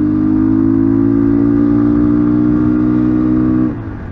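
Motorcycle riding slowly over the Krestovy mountain pass, its engine a loud, close, steady drone that eases off just before the end.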